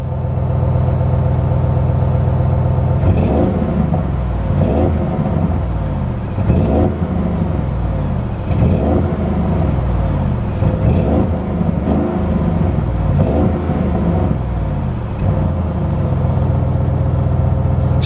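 A 2020 Audi RS6 rumbles at a steady idle, then gives a series of short, regular blips of the throttle. Each rev rises sharply above the low, beefy background drone, heard close and loud.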